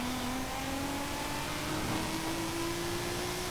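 Fast X drift car in Forza Horizon 5, its high-revving engine holding a steady, slowly climbing whine under broad roaring noise, loud and continuous for several seconds with no talk.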